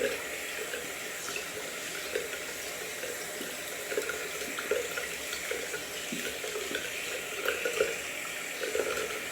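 Steady tap water runs into a sink while a shaving brush is rinsed out, a continuous close splashing hiss with small spatters, no voices.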